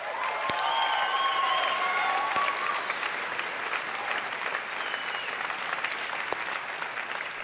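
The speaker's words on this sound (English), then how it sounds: "Give Spence a big applause" An audience gives a big round of steady applause in a hall, continuous clapping at moderate level with a few whistles or tonal cheers near the start.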